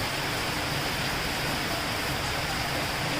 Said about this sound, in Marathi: बघा किती छान पाऊस चालू आहे.